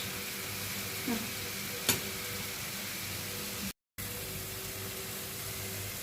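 Chicken for homemade döner sizzles steadily in a pan, a constant frying hiss with a couple of faint clinks and one brief gap, no talking.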